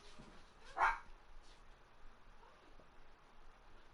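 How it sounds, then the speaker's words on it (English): A pet dog gives a single short bark in a nearby room, faint and brief against quiet background hiss during a Borderlands 3 gaming session. "Sorry if you can hear my dog."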